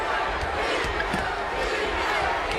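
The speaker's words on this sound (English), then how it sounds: "Listen to the crowd chanting for defense." A basketball arena crowd at a Nets at Pistons game chants for defense, a loud, dense and continuous roar of many voices that fills the space.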